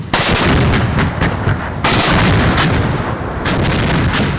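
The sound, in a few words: K9 Vajra self-propelled howitzer firing on a range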